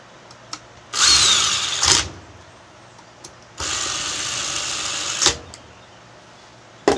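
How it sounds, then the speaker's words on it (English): Power drill driving screws into a dimmer switch box for a temperature-controlled incubator: two sustained whirring bursts of several seconds each, close and loud, with brief clicks between them and no talk. "Just put your screws in there and tighten it down."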